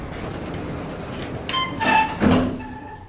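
Glitchy Otis Series 1 modernized traction elevator doors sliding and stuttering, heard as a few rough rumbling bursts and tonal squeals over steady hall noise, each surge loud and close.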